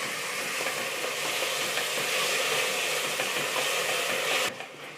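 Chopped tomatoes and onions sauté in a pan for vegetable pulao, a steady close bright sizzle with faint stirring scrapes that cuts off abruptly near the end.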